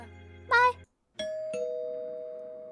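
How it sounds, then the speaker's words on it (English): A doorbell in a video game gives a short melodic ding-dong chime. A brief high electronic tone comes first, then a gap, then the bell notes ring out and linger with a fading hum. "You hear the doorbell ring."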